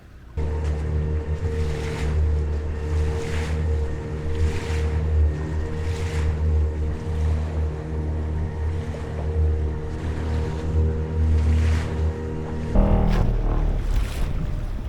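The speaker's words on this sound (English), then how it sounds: "we're heading out on this traditional Balinese boat" A traditional Balinese wooden boat's engine drones steadily out on open sea, with wind and wave noise washing over it throughout.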